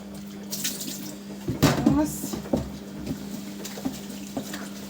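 Tap water runs into a kitchen sink while dishes are washed up, a steady splashing stream with clinks and bumps of crockery and a constant low hum beneath, moderately close.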